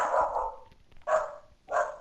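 A dog barks three times in a console Minecraft-style game session, each bark loud and close, spaced about a second apart with quiet gaps between.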